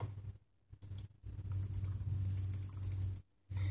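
Faint computer keyboard typing during a Stick Empires gaming session, short bursts of quick keystrokes separated by brief pauses.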